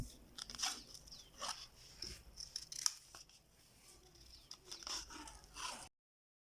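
Scissors cut through strap material for handmade open-toe women's heeled sandals, giving a handful of crisp, close snips and crunches spaced a second or so apart over a quiet background, with no speech.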